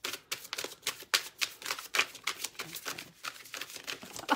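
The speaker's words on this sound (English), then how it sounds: "I'm going to shuffle one more time." Rapid, crisp riffling and flicking of tarot cards, a dense series of papery slaps and clicks close by, with brief pauses between bursts.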